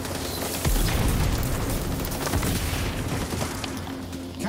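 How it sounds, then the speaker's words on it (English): Rapid gunfire in the XDefiant shooter game, a dense continuous burst of shots running the whole time, loud and close with a heavy low thump at the start. "I just started firing my gun straight in front of me"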